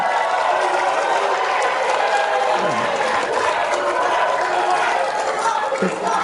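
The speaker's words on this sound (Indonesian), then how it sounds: "kita beri tepuk tangan untuk kedua calon gubernur" A crowd at a debate between two governor candidates applauds and cheers in a dense, continuous wash. Voices and a loudspeaker voice run through the noise.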